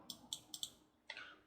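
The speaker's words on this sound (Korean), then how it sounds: "이게 키보드가 좀 빡빡해서 입력하다 보면은 이런 형 나와요 계속" Keys struck on a stiff computer keyboard give four quick, faint clicks in an uneven rhythm, then a slightly longer rattling press, heard up close in an otherwise quiet room.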